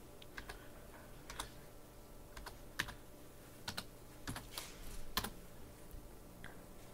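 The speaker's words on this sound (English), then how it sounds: "for the computer, you will have to type in the password" Soft, scattered keystrokes on a computer keyboard as a password is entered to log in on equipment being powered on, irregular clicks at close range in a quiet room.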